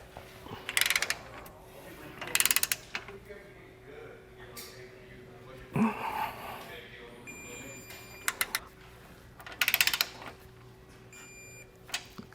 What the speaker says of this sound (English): make sure you also torque down those factory ones that we have